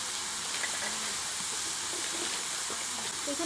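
Eggplant frying in a hot pan with turmeric, giving a steady, dense sizzle and hiss that holds evenly from start to finish with no pauses.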